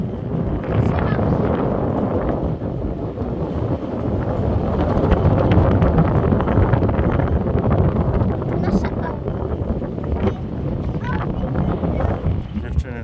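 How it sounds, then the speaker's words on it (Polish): Steady wind roars outdoors at a high, exposed viewpoint, buffeting the microphone with constant broadband rumble for the whole stretch while someone speaks over it. "Jerzy, Nysie, trochę tutaj wieje"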